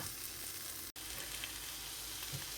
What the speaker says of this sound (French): j'ai rajouté mes lardinettes pour les faire aussi un petit peu dorées